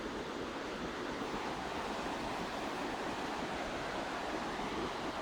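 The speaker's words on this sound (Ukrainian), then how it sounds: "Така гірська річка, що тече дуже бурхливо." A turbulent mountain river rushes in a steady, broadband roar of churning water, constant and unbroken throughout, moderately distant with a breath of wind and no voices.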